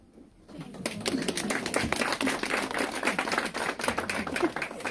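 A group of people claps together after an announcement of the top two places. The clapping is dense and overlapping, fairly close and steady, and starts after a brief quiet moment.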